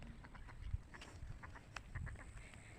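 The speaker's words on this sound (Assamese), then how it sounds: "এয়া হাঁহ," Faint ducks quack intermittently in open farm fields, distant and soft under low background rumble.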